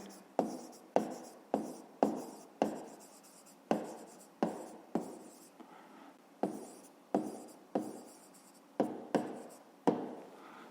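Pen or pencil writing out the answer to a fifth-grade math exercise about filling a pool, a steady series of about a dozen short, crisp scratching strokes, close and clear, with no talk.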